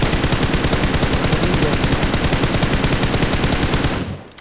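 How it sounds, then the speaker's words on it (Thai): Sustained automatic gunfire from a weapon fired prone in PUBG Mobile, a loud, steady rapid stream of shots lasting about four seconds before cutting off abruptly, with no talking. "ทีนี้นอนยิงนะครับ นอนยิงต้นไม้นะ"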